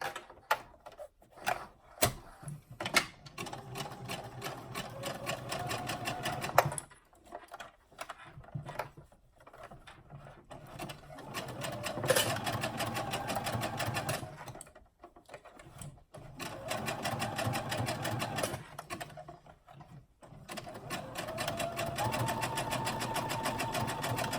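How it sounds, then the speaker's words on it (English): A sewing machine stitches a bra cup to its frame in long runs of rapid, steady mechanical chatter, broken by short pauses between seams, heard close and clear with no talk. "we'll attach the cup to the frame with a 1/4 inch seam allowance"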